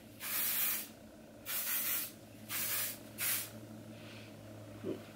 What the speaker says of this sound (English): I'm going to use a little bit of hairspray to kind of give my hair some texture and some grit